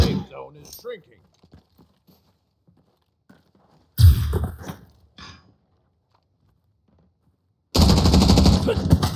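Bursts of automatic gunfire in the shooter game Arena Breakout Infinite, loud volleys separated by quieter stretches with faint movement and a little talk in between.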